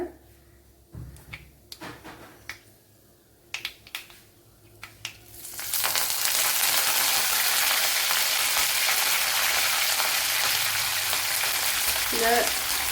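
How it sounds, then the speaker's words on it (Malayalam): Curry leaves drop into hot oil for beetroot thoran and burst into a loud, steady sizzle that crackles on unbroken, after a few clinks and knocks of utensils against the pan. "കൂടെ ഓയിൽ ചൂടായിട്ടുണ്ട് അതിലേക്ക് ഇനി കുറച്ച് കറി ലീവ്സ് ഇട്ട് കൊടുക്കുക"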